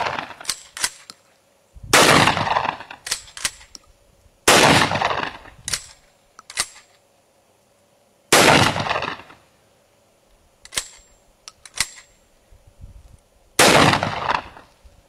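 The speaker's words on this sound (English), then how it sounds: "I've got a variety of shot loads that I'm going to fire through my full choke Winchester Model 12 here" Four loud shotgun blasts from a full-choke Winchester Model 12 firing number 8 birdshot, spaced a few seconds apart, each with a sharp crack and echoing tail, plus fainter clicks and clacks of handling between shots.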